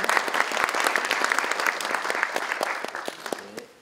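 Sustained audience applause fills a formal forum hall on local assembly law reform, many hands clapping densely and steadily before thinning out toward the end.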